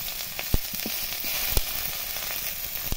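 Spices, chopped tomato and cumin paste sizzle in hot oil while sautéing for a jackfruit curry, a close continuous frying hiss punctuated by a few soft stirring knocks.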